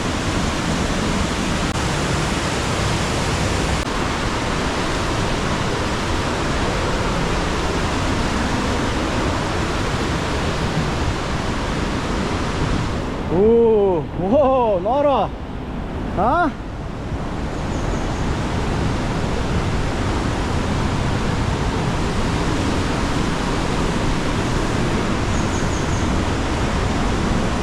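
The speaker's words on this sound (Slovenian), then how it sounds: "Kakšna divja reka!" A wild mountain river rushes through a green gorge of the Jagodinska river on a Slovenian alpine trail, a steady loud roar of whitewater filling the whole scene, with a brief excited exclamation from a hiker partway through.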